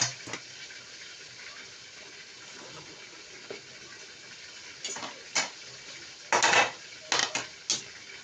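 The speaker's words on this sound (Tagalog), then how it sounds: "Haluin lang natin, maigi." Chopsuey vegetables and cabbage stirred in a pan, a low steady background hiss punctuated by several loud clatters and scrapes of a utensil against the pan, close and bunched toward the end.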